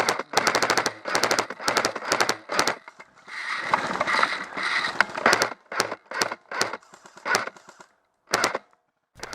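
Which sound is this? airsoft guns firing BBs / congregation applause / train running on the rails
airsoft guns firing BBs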